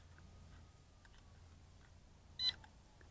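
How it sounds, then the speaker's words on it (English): A single short electronic beep from a Kageen Q5 GPS RC quadcopter during compass calibration, fairly close and clear over a quiet room hum, with faint ticks before it. "1 beep"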